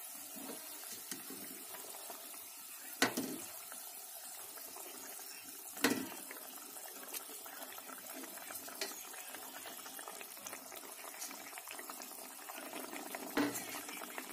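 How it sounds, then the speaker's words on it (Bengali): Fried fish simmering in a cashew-paste fish curry in a pan gives a steady, soft bubbling hiss, broken by a few sharp clicks and clatters, with no talking. "মাছগুলো ফুটছে খুব সুন্দর করে।"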